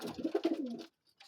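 Pigeons coo in a pigeon loft, a close, throaty burst of rolling coos lasting under a second, then a pause and a faint trailing sound.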